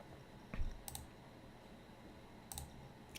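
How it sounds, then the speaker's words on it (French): Two or three sharp, faint mouse clicks on a computer, a pair near the start and another pair near the end, over quiet room tone with no talking. "je clique sur activer"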